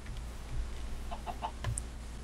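Chickens in Minecraft give a few short clucks, soft and fairly close, over a steady low background hum with no talking.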